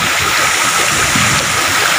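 The Lumondo waterfalls by Lumondo Bridge in Alegrea municipality rush in a loud, steady, close roar of falling and streaming water, with no voices.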